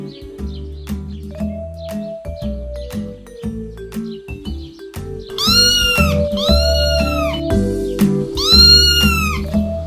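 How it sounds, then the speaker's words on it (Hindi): Cartoon cat chasing a mouse in a Hindi moral story: playful plucked music with bouncy effects gives way to loud, drawn-out, wavering meows, three in a row, over the backing music. "एक दिन एक बिल्ली ने उस चूहे को देखा और दौड़ा दिया।"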